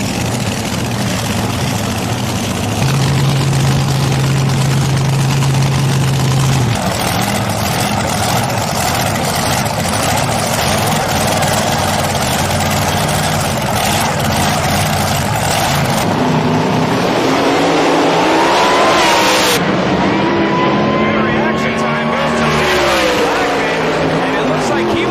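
Hot rods drag racing at Old Bridge Township Raceway Park, a loud continuous engine roar with rising and falling revs under steady announcer commentary.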